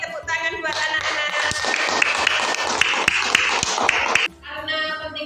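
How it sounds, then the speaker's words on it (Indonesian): Children in a classroom clap together in a loud, dense burst of applause lasting about four seconds, then stop abruptly. "Tepuk tangan buat anak-anak."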